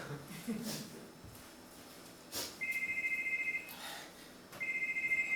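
A telephone rings during a stage performance, two bursts of rapid electronic trilling, close and fairly loud, with a voice talking in between.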